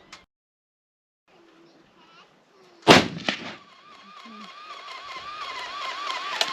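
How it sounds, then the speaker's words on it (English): A single loud gunshot cracks out during outdoor target shooting, followed by a quick echo-like second burst, with voices talking afterward over a steady background hiss. "I'm just going to shoot."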